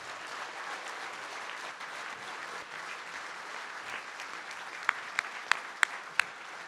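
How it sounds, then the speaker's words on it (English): Audience applause for the class of 2023 at the International Towing and Recovery Hall of Fame induction ceremony: steady, dense clapping throughout, with a few sharp, distinct claps standing out near the end. "Let's give a round of applause for the class of 2023."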